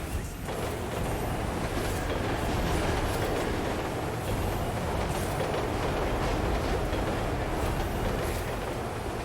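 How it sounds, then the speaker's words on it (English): A train rumbles past in The Crew 2 racing game, set in a desert, a loud continuous clatter of rail cars and wheels holding steady throughout with no speech. "no idea what the idea of that train there is"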